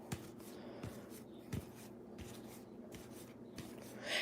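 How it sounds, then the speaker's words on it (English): Soft, faint rustling and sliding of tarot cards being shuffled by hand, with a few light taps in a quiet indoor room. "Let me shuffle."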